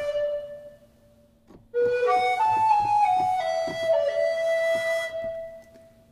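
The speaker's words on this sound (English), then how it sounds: "Beautiful tenor recorder, Renaissance flute." A sampled tenor recorder from the CineWinds Pro library plays a soft sustained tone, then a gently breathy legato melody of a few stepwise notes, heard alone and close with a quiet, airy timbre.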